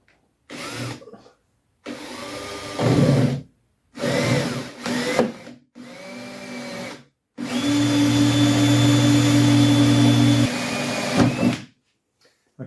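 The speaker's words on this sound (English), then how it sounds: "find the spot weld. which is here somewhere, just there, and drill it out." Power drill boring out a spot weld through layered car body metal on a BMW 116 trophy build, a few short bursts followed by a long sustained whine of the bit grinding steel, close and loud.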